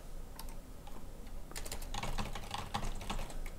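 Rapid typing on a computer keyboard, a steady flurry of close, crisp key clicks that grows busier and denser partway through, heard alone without talk.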